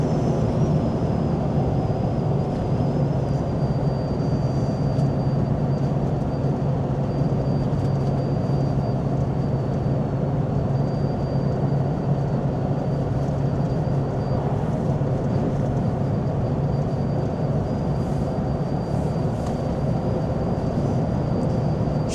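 A 1998 Toyota Hiace Toyoace double cab diesel truck cruises in fourth gear with a continuous low engine and road drone inside the cab. The sound stays even for the whole stretch, and no one speaks.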